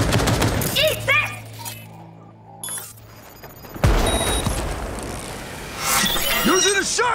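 Shotgun blasts and mixed gunfire in the video game Cyberpunk 2077, loud bursts and a heavy boom midway amid a busy, chaotic firefight, with voices shouting over the action.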